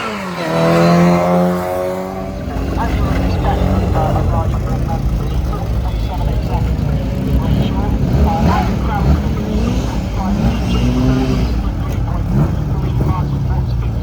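A 1961 classic Mini Cooper launches off the line at the Prescott hillclimb. The small engine revs up with a rising whine, then keeps a loud, sustained roar as it pulls away. Voices can be heard faintly under the engine noise.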